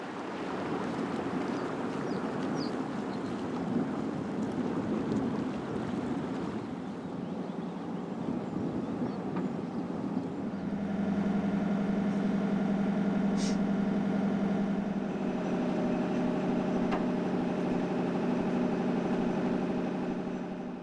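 Boat engine idling on a river near locks in Ireland: a steady low, rumbling drone holds for the whole stretch and grows slightly louder and more tonal partway through, with no voices.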